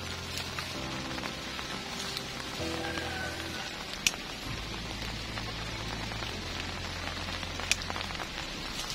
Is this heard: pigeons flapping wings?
no